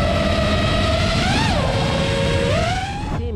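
FPV acro drone flying over a low-grass meadow, its loud high-pitched motor whine rising and falling in pitch as the throttle changes, close and continuous.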